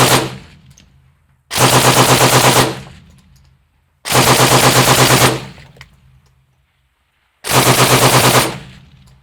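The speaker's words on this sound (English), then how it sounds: "Yeah, I'm pretty sure I like shooting it full auto better." Three long full-auto bursts from a 6.8mm Next Generation Squad Weapon, each a loud, close, rapid string of shots lasting about a second, separated by pauses, with no voices.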